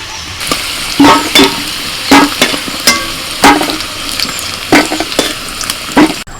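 Whole spices, bay leaf and dried chili sizzle in hot oil for a chicken dish, with a steady loud frying hiss. Repeated sharp scraping strokes of a spoon against the pan come close up.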